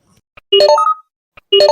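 Electronic phone dialing tones in a cartoon: a small blip, then a quick rising run of bright notes, repeating about a second later, loud and clean.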